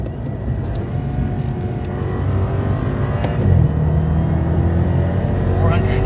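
A BMW 650i accelerates hard through a pull, the engine note rising steadily and building toward the end, heard from inside the car with a continuous, fairly loud drone.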